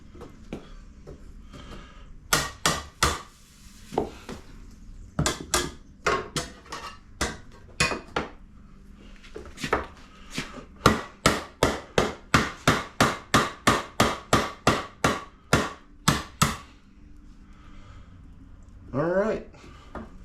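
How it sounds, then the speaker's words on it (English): A hammer striking metal while building an anvil stand in a workshop, with ringing blows in irregular clusters that settle into a fast, steady run of about a dozen hits, loud and close. "We'll grab our hammer."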